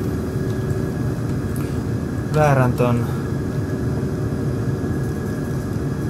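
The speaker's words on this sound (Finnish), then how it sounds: "lentokoneen" An airplane engine in Microsoft Flight Simulator X hums as a steady, low drone throughout, and someone speaks briefly over it partway through.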